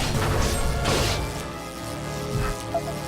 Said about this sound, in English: Fortunately, he just head bashes me.